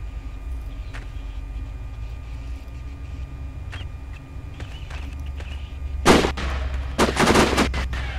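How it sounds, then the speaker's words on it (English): Gunfire in the video game Sniper: Ghost Warrior, with two loud broadband bursts of shots near the end over a steady low ambient rumble and a few faint earlier cracks. "I'm under heavy fire."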